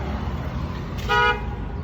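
A car horn sounds once in a short, fairly loud burst from nearby traffic outside a garage where tie rods are being changed on a Lexus IS300, with steady background noise around it.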